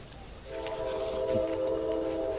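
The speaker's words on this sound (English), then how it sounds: "Here's that train again." A train near a creek in the woods sounds its horn in a sustained, layered chord that rises out of a low rumble and holds steady, moderately distant, with no one talking over it.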